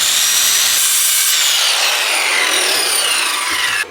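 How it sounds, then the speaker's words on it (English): Steady, rapid hand sawing through wood, cutting flush inside a Dodge Sprinter van, a bright rasping stroke sound that continues nonstop for several seconds, up close. "I'm just going to take my saw, keep it flush."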